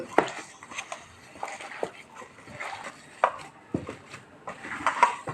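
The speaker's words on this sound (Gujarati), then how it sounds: "આપણે આ ધાણા બધું એક સરખું મિક્સ કરી લઈએ" Spoon scraping and tapping in a bowl while poha cutlet mixture is stirred together with chopped coriander, with irregular close clinks and knocks coming and going, no talking.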